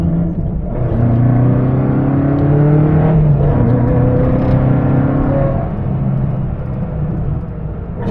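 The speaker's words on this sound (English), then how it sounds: "take this Mitsubishi Lancer rally car for a drive. It's very loud" A loud 1977 Mitsubishi Lancer 1600 rally car engine drones and revs with shifting pitch as it drives, a continuous close rumble with no talking.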